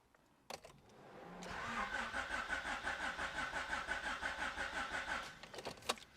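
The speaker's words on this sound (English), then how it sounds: "my cranking is a little bit slow, but the car doesn't start" A car with a fuel cutoff installed and a low battery cranks slowly without starting: a rhythmic, labored starter whir for about four seconds, bracketed by clicks and key sounds, close and fairly quiet.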